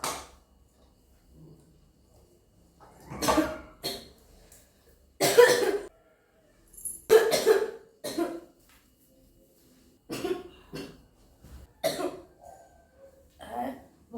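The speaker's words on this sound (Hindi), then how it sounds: "मेरे बहुत खांसी हो जा रही है" Repeated harsh coughs in short bursts, close by, scattered across the stretch with brief pauses and some breathing between them.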